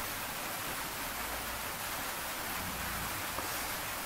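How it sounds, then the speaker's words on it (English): Steady rain falls outside a home, a continuous even hiss of drops with no talk, moderately quiet throughout. "Today is just raining in my place."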